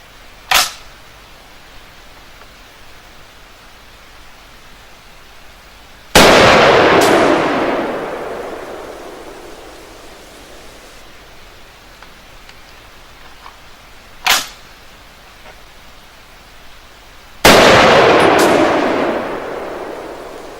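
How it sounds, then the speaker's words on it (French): Browning MK3 rifle in .30-06 Springfield fired at 50 metres on a range: two loud, sharp shots with long rolling echoes, each preceded by a smaller crack, heard alone without talk. "on retire 3 autres balles"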